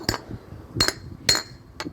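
A glass bottle is struck hard four times in an attempt to break it, each a sharp, bright clink spaced roughly half a second apart, close and without talk.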